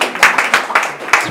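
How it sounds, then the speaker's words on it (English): Clapping at an award ceremony, with bursts of hand claps in an uneven rhythm mixed with crowd noise, fairly close and moderately loud, and a voice may be faintly present. "Give them a round of applause"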